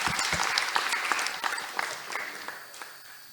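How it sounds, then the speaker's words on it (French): Seminar audience in French Guiana applauding the speakers at a business event on the energy transition, a lively burst of clapping with sharp individual claps that gradually thins out toward the end. "je voudrais qu'on applaudisse nos intervenants."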